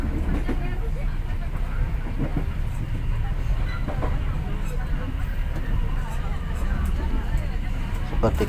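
The Serayu passenger train runs between Jakarta and Bandung, heard from inside as a constant loud rumble with faint wheel clatter, while voices talk over it.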